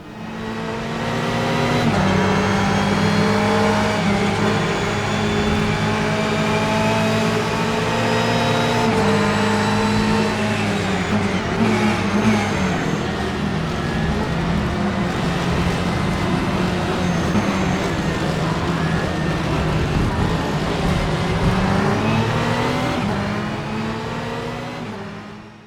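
A Ferrari 488 GTE race car engine roars continuously in a sim racing game, loud and close, climbing through revs and shifting gears repeatedly over about twenty-five seconds with no voices.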